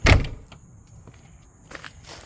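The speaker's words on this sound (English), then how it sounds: "Shutting the door on the craft room." A craft room door swings shut with a loud close thud at the start, followed by quieter rattles and soft knocks and a few faint shuffles, with no talk.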